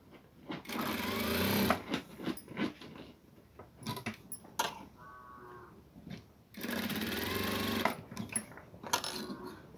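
Domestic sewing machine stitching a blouse back panel, its motor whirring in two sustained bursts with short pauses and clicks between, close and moderately loud with no talk.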